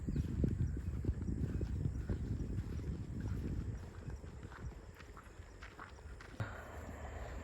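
Bullock hooves clip-clop at a steady walking pace on an evening walk outdoors, fairly faint and distant, over light wind and background noise with no talking.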